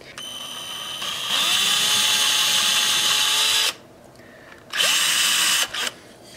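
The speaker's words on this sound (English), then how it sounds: "I just take a very tiny drill and just touch it right there, just enough to lock it in place." A tiny power drill whines in two bursts against a violin neck during a neck reset, a high steady buzz of about two and a half seconds, a pause, then a shorter spin-up and spin-down close by.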